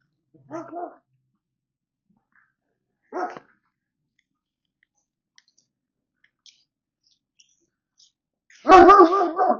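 Jack, the neighbor's dog, barks in a few short isolated bursts separated by long silences, then lets out a louder, fuller bark at the end, heard at moderate distance.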